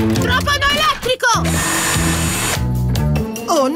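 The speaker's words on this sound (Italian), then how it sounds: "Non vedo cosa sto trapanando!" A cartoon power drill whirs in short spurts at a construction site in an animated children's show, loud and close, with a high mechanical whine between bursts of talking.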